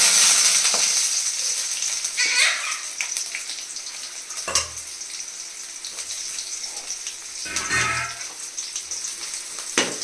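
Onions added to hot oil with curry leaves for mutton keema: a burst of sizzling that eases into a steady fry, with a few louder clatters and stirring scrapes, no voices.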